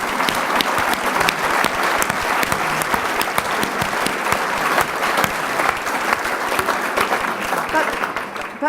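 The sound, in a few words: audience applause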